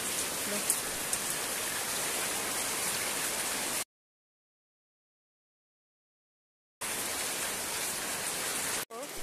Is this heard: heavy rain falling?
yes